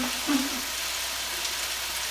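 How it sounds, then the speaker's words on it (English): Steady, bright sizzling of barbecue-rubbed chicken frying in a thin layer of oil in a pan fills the clip, close and continuous, with a brief low hum near the start. "they really smell good with that barbecue rub on the chicken frying"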